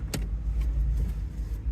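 A VW Golf engine idles after an oil, coolant and radiator change, a low steady rumble close by with a couple of faint light clicks on top.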